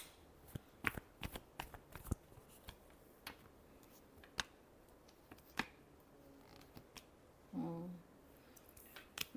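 Tarot cards are shuffled softly nearby in a quiet room, a quick string of light riffling clicks and taps with a brief murmur partway through.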